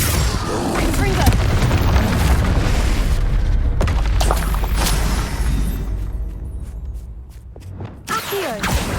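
Confringo spell explosions in Hogwarts Legacy, heard as loud booming blasts and bursts amid a chaotic combat mix of spell impacts and mechanical clatter, with sharp transients toward the end.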